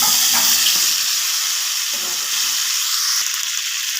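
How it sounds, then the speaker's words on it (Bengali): Cauliflower florets dropped into hot oil in a kadai: a loud, bright, continuous sizzle and crackle close up, with a few soft knocks as the pieces settle. "এবার আমি ফুলকপিগুলো দিয়ে দেবো তেলের ওপরে।"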